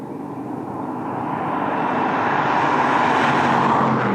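Ford Mustang Dark Horse driving, a steady engine roar with road noise that swells slightly louder over a few seconds, with no voices over it.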